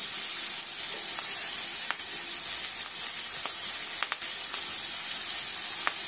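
Onion, tomato and curry leaves sautéing in a pan for Maharashtrian stuffed brinjal, a steady close sizzle and hiss with occasional sharp pops and stirring scrapes, no talking.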